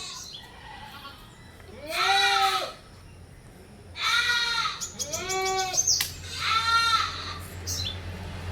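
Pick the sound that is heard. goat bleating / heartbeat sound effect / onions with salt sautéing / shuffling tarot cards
goat bleating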